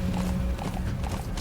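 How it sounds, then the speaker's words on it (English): Game horse in Metal Gear Solid V galloping, a steady clip-clop of hooves over a dense, continuous bed of game music and ambience, moderately loud with no talk. "We'll make a cool horse escape."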